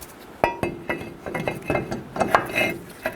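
A brake rotor from the rear brakes of a 2005-10 Mercury Mountaineer is flipped around and handled, giving a string of close metallic clinks, knocks and scrapes in an irregular rhythm with no talking.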